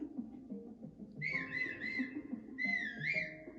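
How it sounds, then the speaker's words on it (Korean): A person whistles a few short rising and falling notes during a playful game, over steady low background rumble and movement. "휘파람 불어."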